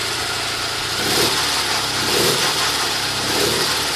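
A small engine runs with its speed raised, turning a G414 generator through a 13-tooth speedup gear; the steady mid-level drone swells slightly in a few gentle surges, with no voices.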